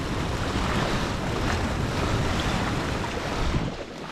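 Fast-flowing water of Elk Creek, a dense continuous rushing roar close to the microphone with some wind buffeting, easing slightly at the very end.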